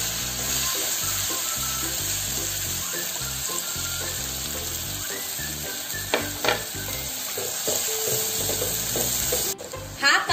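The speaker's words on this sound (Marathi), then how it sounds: "हा कांदा छान विरघळेपर्यंत परतून घ्यायचा, याला छान असा लाईट गोल्डन रंग आला पाहिजे।" Finely chopped onion frying in oil with cinnamon, cardamom, star anise and bay leaf, a steady close sizzle under repeated stirring scrapes, with a few clinks of the spoon near the end and no voices.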